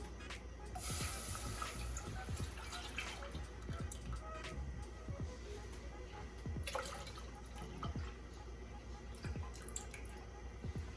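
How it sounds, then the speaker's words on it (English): Evaporated milk poured from two tins into a pot on a stove, a steady liquid trickle with scattered drips and splashes under faint background noise. "I have my 2 tins of evaporated milk over here, and I'm just gonna pour these into the pot."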